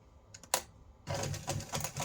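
A sewing machine top stitches a fabric envelope: a few sharp clicks, then a fast, close, rapid mechanical chatter in pulsing bursts, fairly quiet.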